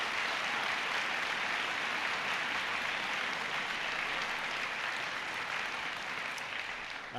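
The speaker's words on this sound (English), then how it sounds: "So they deserve a huge round of applause." An audience applauds the teaching staff at TechBoston, a sustained, even wash of clapping from a large crowd that holds steady for several seconds and tapers slightly at the end, with no voices over it.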